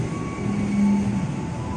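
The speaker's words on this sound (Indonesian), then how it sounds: "Kereta api Serayu datang dari Purwokerto, Kira Condong sampai ke Pasar Senen." Serayu passenger train from Purwokerto arriving at Bekasi station, a steady rolling rumble with a faint tonal squeal and hum, continuous and moderately close, no talk.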